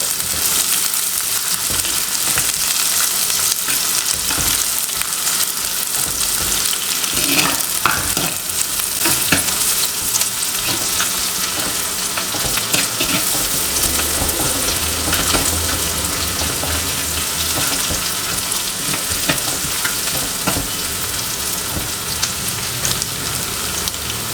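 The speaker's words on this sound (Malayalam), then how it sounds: "ഉള്ളി വഴന്ന് വരുന്നുണ്ട്." Onions sautéing in a pan while being stirred, a loud, dense, continuous sizzle with scraping and rustling of stirring, close up and unbroken with no voices.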